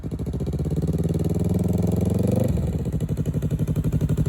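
A Yamaha R3 motorcycle engine runs close by with a loud, throbbing drone that swells slightly, then drops at mid-clip into a slower, pulsing idle.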